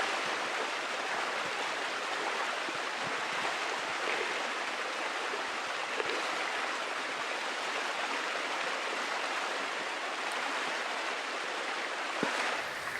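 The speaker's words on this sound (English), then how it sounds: "This is really snow melt runoff, and it's very cold and running well" A fast-running, very cold snowmelt runoff stream rushes and gurgles continuously at close range on a winter day, a constant bright wash of water with no voices.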